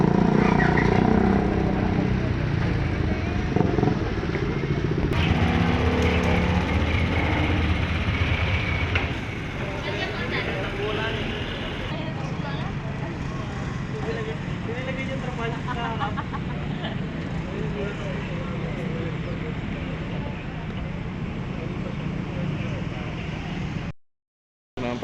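Motorcycles boarding a passenger ship for its last trip, engines rumbling and droning close by over steady ship and harbor noise, with people talking throughout.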